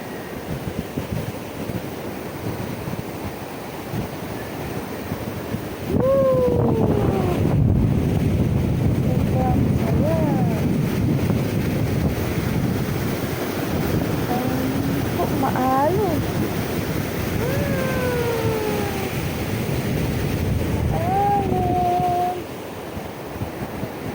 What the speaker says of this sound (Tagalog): napakalakas ng alon